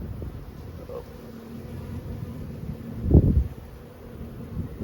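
Honeybees hum steadily over an open hive frame while a homegrown queen is marked, a low droning swarm with a brief louder burst of buzzing near the middle.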